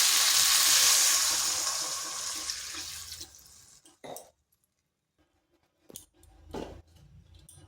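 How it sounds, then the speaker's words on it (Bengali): Water poured into a cooking pan during an aloo potol niramish recipe: a loud hissing, sizzling pour for about three seconds that fades off, followed by a few brief clanks and scrapes in near silence. "এরপর দিয়ে দিচ্ছি জল।"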